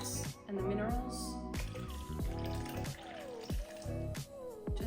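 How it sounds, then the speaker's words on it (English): Coconut water being poured into a cup that already holds water, a soft close trickle and gurgle with small drips and splashes, under steady background music. "then I'm going to add some coconut water"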